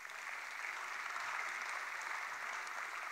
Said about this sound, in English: So another round of applause for Judy,